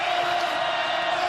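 Loud, raucous crowd roar fills Bobcat Stadium during an FCS championship semifinal football game between Montana and Montana State, a steady dense wash of noise with no breaks.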